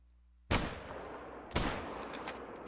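Two loud gunshots from a hunting rifle in theHunter: Call of the Wild, about a second apart, each a sharp crack with a long echoing tail.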